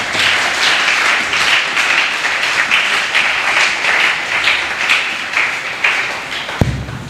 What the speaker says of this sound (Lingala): Est-ce qu'on peut acclamer pour la parole de Dieu?